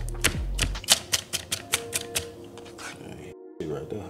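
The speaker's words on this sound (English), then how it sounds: "They gonna get mad for the way you chopping them green onions." Green onions are chopped with a knife on a cutting board for garlic pepper fettuccine with grilled shrimp, a quick run of sharp, evenly spaced taps heard close up, with a voice speaking briefly nearby.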